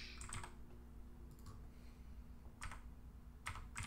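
Quiet bursts of typing on a computer keyboard, with quick clusters of clicks separated by pauses and no voices.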